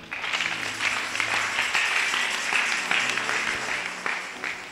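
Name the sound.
audience applause at a church service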